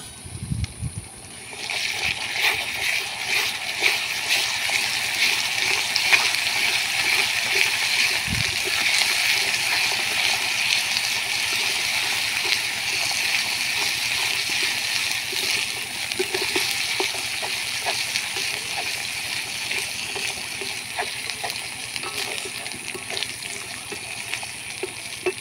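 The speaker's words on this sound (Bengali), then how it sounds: "পরিমাণ মতো জল দিয়ে দেব।" Water poured into a cooking pot of vegetarian curry with ground ginger, dried chilli, cumin and coriander, giving a steady rushing hiss with sizzling and splashing that goes on for the whole stretch without talk.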